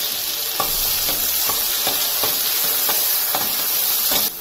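Masala paste sautéing in oil in a pan with cumin, asafoetida and curry leaves for a sprouted moth bean curry, a steady close sizzle and hiss broken by repeated scraping stirs of a spoon.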